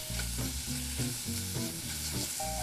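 Thinly sliced onion and carrot cut into 3 mm quarter-rounds sizzle steadily in a pot with beef, with repeated scraping stirs and no talking.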